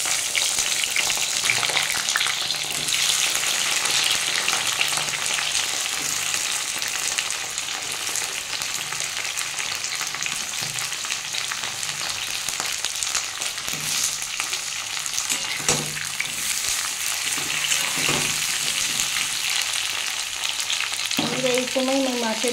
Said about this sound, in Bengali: আমি পটলগুলো একটু ভেজে নেব।